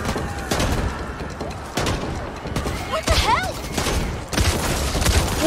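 Gunfire in the Back 4 Blood video game, with a series of sharp, heavy shots at irregular intervals alongside other game noise, some of it close and loud.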